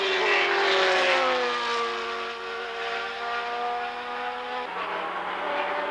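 Can-Am race cars, among them a white March BMW, howl past at Lime Rock in 1985, several engines droning together with falling pitch as they pass, loud and sustained, a gear change near the end.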